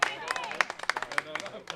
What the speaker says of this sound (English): Let me turn up the crowd mic so you can really hear that.